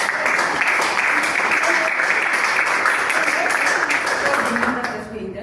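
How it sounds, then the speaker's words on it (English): Steady, loud applause from a Toastmasters meeting audience, a dense wash of clapping holding evenly for about five seconds before easing slightly at the end. "So let's give him a round of applause."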